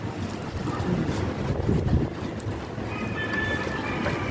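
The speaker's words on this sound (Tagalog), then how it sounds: "Mahangin sa labas." Steady outdoor wind rushes in a constant broadband hiss and rumble, fairly soft, with a faint high tone appearing near the end.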